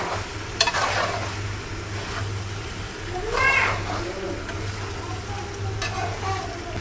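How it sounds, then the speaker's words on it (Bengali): Pasta stirred into frying beef masala in a pan, with a continuous close sizzle, occasional scrapes of the spoon and a low steady hum underneath. "এখন এই মাংসের মধ্যে দিয়ে দিচ্ছি দেখুন পাস্তা।"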